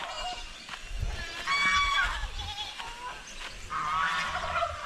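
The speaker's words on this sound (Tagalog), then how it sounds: "Nagsiiyakan yung mga kambing natin dyan, oh." Several farm goats bleat loudly and repeatedly outdoors, their wavering cries overlapping against a rough background of wind and livestock noise.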